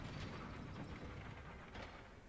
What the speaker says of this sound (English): Pull this lever.